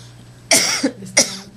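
Two sharp, close coughs from a person, one at a time with a short pause between, each a harsh burst that fades quickly in a quiet room.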